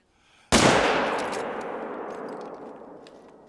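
A single loud rifle shot fired at a moose cracks out sharply after a moment of quiet, then a long reverberant echo rolls away and fades slowly across open country.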